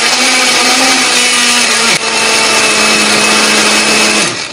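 A blender loud and close, grinding chili peppers with a little water or oil into a spice paste. Its steady whirring pitch dips briefly partway through and again at the end, with no talking.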